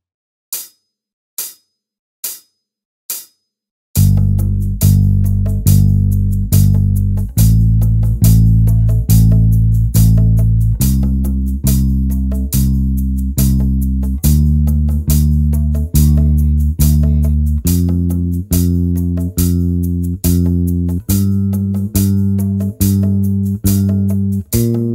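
Beginner bass guitar fingering exercise: after four sharp clicks counting in, a loud, close, deep bass plays a steady, even stream of plucked notes that step through changing pitches for about twenty seconds.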